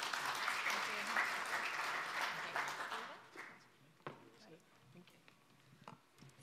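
A conference audience gives warm applause to welcome a speaker onstage. Steady clapping lasts about three seconds, then thins to scattered claps and shuffling.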